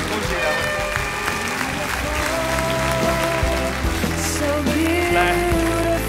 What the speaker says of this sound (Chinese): 让大家用掌声送给这对新人他们的求婚成功